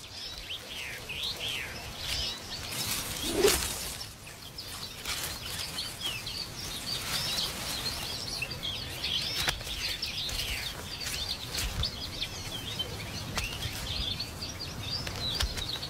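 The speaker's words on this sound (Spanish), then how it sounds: "Como por ejemplo, el pinzón vulgar." A common chaffinch on an Atlantic island calls with brief chirps amid a busy mix of other birdsong and a burst of wing flaps, steady outdoor chatter at moderate distance.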